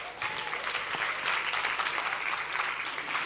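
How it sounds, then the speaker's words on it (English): A forum audience applauds Michael at the Africa Forum on Displacement, with steady, dense clapping that holds evenly throughout, moderately loud and filling the room, with no voices over it. "So please let's give Michael a big round of applause"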